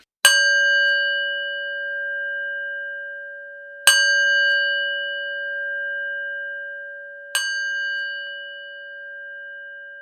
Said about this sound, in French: Écoute la différence entre le bol frappé et le bol chanté.